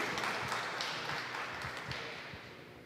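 A crowd gathered for a bird introduction workshop claps in welcome for a speaker, soft and somewhat distant, with a steady patter that slowly tapers off.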